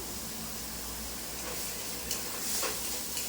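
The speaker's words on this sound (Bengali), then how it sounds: "মশলাটা একটু জল দিয়ে কম আঁচে একটু ভাজবো" Spice paste of turmeric, chilli, cumin and coriander powder sizzles in oil over low heat after water is added. It makes a constant loud hiss with a few scraping stirs near the end.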